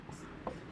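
A teacher writes an example on a board during a Hindi grammar lesson, producing a soft, brief scratch of strokes, with a quiet voice audible underneath.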